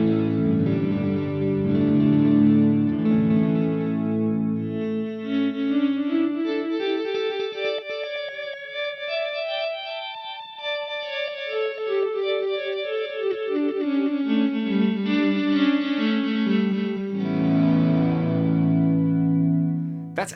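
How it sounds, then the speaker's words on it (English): Electric guitar swells and chords run through a quad parallel delay, building dense, shimmering layered repeats that rise, thin out and swell again, with no talk. "I'm going to navigate over to the quad parallel delay type"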